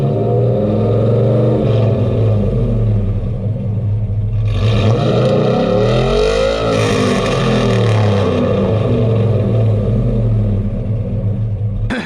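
Cammed Chevrolet Silverado pickup with dual exhaust, an X-pipe and Venom 250 mufflers, idling with a deep lumpy rumble, then revving up hard midway and settling back, loud and close with no talking.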